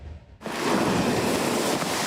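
Tropical storm wind and pounding surf hit the shore at Long Beach, New York, a sudden roaring wall of wind and waves that comes in after a quiet start and stays loud and unbroken.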